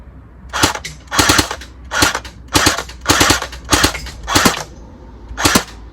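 An airsoft Kalashnikov fires BBs in burst mode, giving seven or eight loud, close rattling bursts of rapid snapping shots with brief pauses between them.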